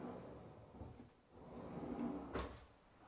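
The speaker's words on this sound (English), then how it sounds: "a drawer" A drawer under a bathroom sink in a new prefab home slides open or shut, giving one soft, quiet knock of wood against its stop in an otherwise hushed room.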